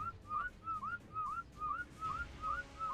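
A whistle command in the Ark survival video game: a clear, repeated two-note rising whistle sounding about seven times at a steady rhythm, thin and moderately quiet over faint background ambience.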